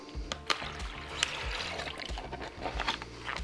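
One cup of vodka is poured into water in a container for a homemade ice pack, giving a steady trickling, splashing pour with small gurgles, close and alone.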